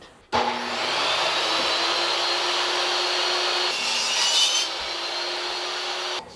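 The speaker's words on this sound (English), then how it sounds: "first thing is to rip this way into some tiny little thin veneers to go under there" A power saw rips tiny thin wooden veneers for an aft cabin door on a wooden boat, a loud, steady, continuous whine with a slight shift in pitch midway, cutting off abruptly after about six seconds.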